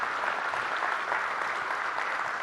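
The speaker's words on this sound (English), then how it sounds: "Let's give both David and Isaac another round of applause" Audience applause in a large hall at a chamber of commerce annual meeting in Cleveland, a soft, even wash of many hands clapping at a distance without breaks.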